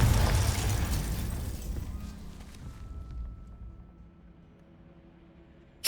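A fiery Confringo spell explosion from Hogwarts Legacy bursts loudly at the start and rumbles away over several seconds, ending with a sharp new hit.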